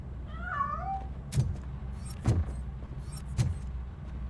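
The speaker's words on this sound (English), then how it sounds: "That cat must be hiding inside." A cat meows once with a wavering, drawn-out cry in the video game RoboCop: Rogue City, followed by several sharp clicking thuds over a low rumbling background.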